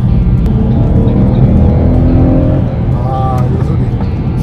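A Ferrari Purosangue's freshly started engine climbs in pitch as the accelerator is pressed on a drive in New Zealand, a loud, rising engine note heard from inside the cabin, easing off toward the end.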